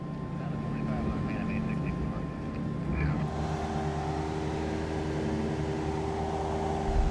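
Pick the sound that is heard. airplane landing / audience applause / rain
airplane landing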